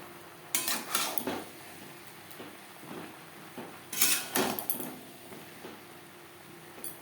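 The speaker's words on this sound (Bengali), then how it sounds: "এবার দিয়ে দেব আলু আর সয়াবিন মশলার সাথে আলু সয়াবিন বেশ ভালো করে মিক্স করে দেবে" A spoon scrapes and clinks in a pan as potatoes and soybean chunks are stirred with spices for soybean curry, two clusters of clattering strokes with quiet gaps between, close but faint.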